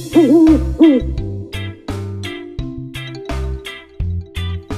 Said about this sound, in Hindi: ऊ से उल्लू।